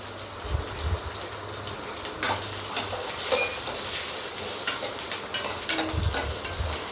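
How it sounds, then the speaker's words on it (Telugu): Thinly sliced fresh coconut pieces fry with green chilies in a pan, a continuous close sizzle and hiss mixed with repeated scraping and stirring strokes. "ఇలా ఫ్రై చేసినప్పుడు, పచ్చి కొబ్బరి వేయించినప్పుడు ఎంత కమ్మటి అరోమా ఉంటుంది"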